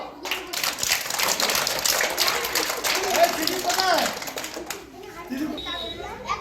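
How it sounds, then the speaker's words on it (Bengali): Children clapping hands during school gymnastics training, a burst of brisk, overlapping claps close by, with an adult coach's voice and kids talking over and after it. "যাও হাততালি দাও"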